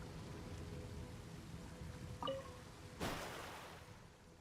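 Heavy rain falls in Genshin Impact as a soft, steady hiss, faint and unbroken, with a short chime-like tone and then a louder swell of rain partway through.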